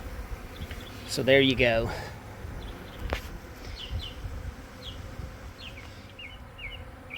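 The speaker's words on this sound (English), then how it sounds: "all these bees will be attracted to the scent of the queen in that entrance, and then all these ones flying right now will end up in my hive this evening" A large honeybee swarm hums and buzzes continuously around a hive entrance outdoors, a dense droning close by, with someone briefly speaking over it near the start.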